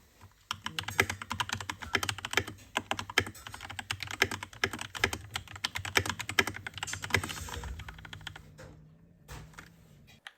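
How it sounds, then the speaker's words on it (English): Keystrokes on a Keychron K2 mechanical keyboard fitted with brown switches, a rapid, uneven run of soft clacks close to the mic, easing off near the end. "I've got the brown switches on here, which means it still has that satisfying feeling without having the extremely loud click"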